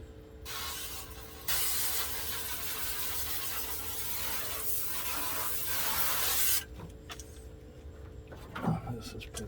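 Degreaser is sprayed onto the fuel tank of a 1966 Mustang in long, loud, close hissing bursts, followed by quieter scraping and handling sounds.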